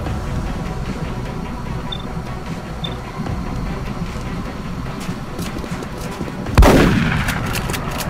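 A single loud, heavy weapon blast in XCOM Enemy Unknown, booming out with a decaying tail over a low ambient game hum.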